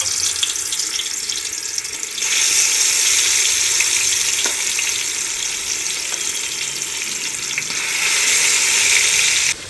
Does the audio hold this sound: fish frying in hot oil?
yes